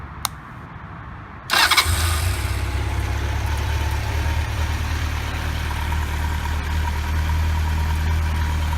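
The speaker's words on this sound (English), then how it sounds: "Fires right up on the first click." A Honda CB750 Nighthawk motorcycle catches on the first press of the starter with a sharp crank, then settles into a steady, close, low engine idle that runs on alone.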